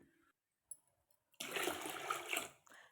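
Water poured into a pot of home-cooked sambar, a steady splashing pour of about a second and a half that tapers off, after a few faint kitchen clicks.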